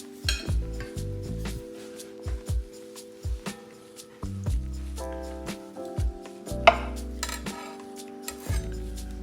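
Cooked corned beef is sliced with a knife on a board, with repeated knocks and scrapes of the blade, a few clinks and faint ringing tones, close by and irregular.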